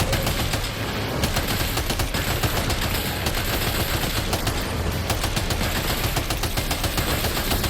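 Dense, continuous gunfire in the video game Death Stranding 2, rapid automatic bursts and shots layered into a loud, unbroken barrage with no speech over it.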